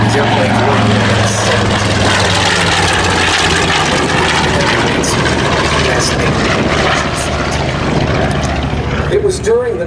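Grumman TBM Avenger propeller aircraft roar past at an airshow, a loud, continuous engine and airscrew drone that fills the whole stretch, with a voice talking underneath.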